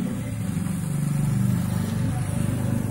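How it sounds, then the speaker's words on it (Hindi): A motorbike on an Indian street approaches and passes, its mid-pitched engine drone swelling loud and close, then easing slightly, with a voice talking over it. "अभी देखिए एक बाइक आ रही है"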